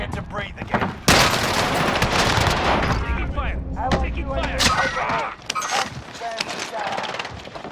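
Dense gunfire bursts and explosive shots in Call of Duty on Rebirth Island, loud and sustained for several seconds with a brief lull near the end, mixed with game voice chatter.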